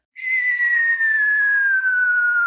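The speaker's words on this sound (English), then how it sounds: "is the bomb / slide whistle / falling" A slide whistle gives a single sustained falling tone, like the classic cartoon bomb-drop effect, starting bright and gliding steadily downward, loud and close with no other sound.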